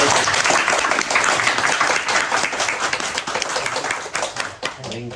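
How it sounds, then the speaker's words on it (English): Audience applause at an architecture talk event, dense steady clapping from a crowd that thins toward the end, with voices talking over the last moments. "so we give applause to Jimmy"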